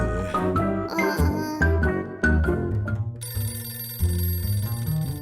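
A telephone ringing in a playful melodic ringtone, loud and close with repeated bright chiming notes over a bouncy tune, with no talk over it.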